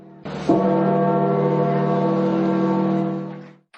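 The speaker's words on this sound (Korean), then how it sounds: "바티칸 성 베드로 광장에 종이 울립니다." A church bell rings in St. Peter's Square at the Vatican: one deep strike followed by a long, humming, sustained tone that fades out after about three seconds.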